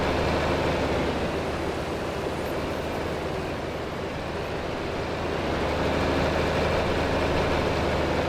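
A tractor engine in the video game Farming Simulator 25, with the sprayer full of herbicide, rumbles at a steady low idle-like drone that stays even and loud throughout, with no talking.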